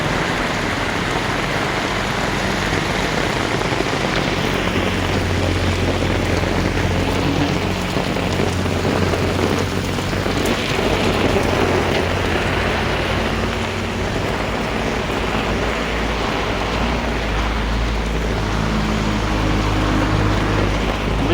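Heavy monsoon rain pouring over a waterlogged housing society in Mumbai, a loud continuous wash of falling and rushing water with a low rumble underneath, steady and unbroken, no voices.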